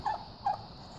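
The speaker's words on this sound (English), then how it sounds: "turkeys." Two short gobbles from turkeys kept on a homestead sound close together near the start, faint and brief over a quiet background.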